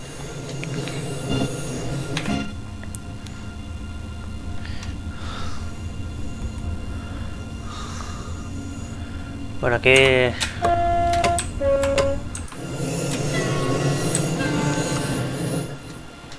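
An ICE2 BR406 train in Train Sim World 2 rumbles steadily while running, its wheels letting out sharp, rising squeals and whines midway, with someone talking over the train noise at the start.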